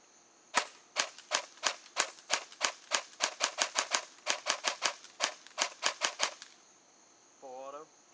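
A JG G36K airsoft rifle, upgraded, fires about two dozen sharp semi-automatic shots in a quick, slightly uneven rhythm, close and loud, followed by a short mechanical whir after the shooting stops.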